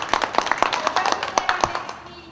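Brief applause from a small audience at an adult ADD team panel, a handful of distinct close claps in an uneven burst that thins out quickly.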